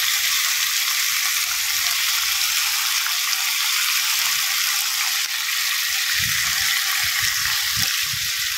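Clams stir-fry with roasted chili paste in a hot pan, giving a loud, steady sizzling hiss throughout, with low scraping and stirring thumps toward the end.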